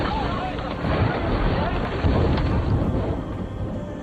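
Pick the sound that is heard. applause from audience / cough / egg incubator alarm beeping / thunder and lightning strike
thunder and lightning strike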